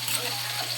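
Water poured into a hot frying pan sizzles sharply, a brief loud hissing burst of steam and spitting oil in a home kitchen.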